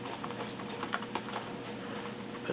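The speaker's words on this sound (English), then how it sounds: "And tap on the keyboard." Someone types on a waterproof Bluetooth mini flexible keyboard, making soft, rapid, irregular taps close by over a steady background hiss.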